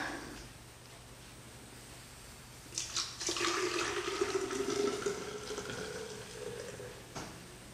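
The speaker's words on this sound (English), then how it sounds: "Now we can pour it into a, a nicer container." Homemade almond milk pours into a container, a steady liquid gush rising at about three seconds and running for several seconds before stopping, near and moderately loud with no talk.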